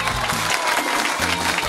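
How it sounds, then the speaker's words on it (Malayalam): A crowd of spectators claps at the start of a stage show, loud, dense applause over the whole moment, with a low hum running beneath it. "കാണികൾ ഒന്നടങ്ങൊന്ന് കൈയടിക്കൂ"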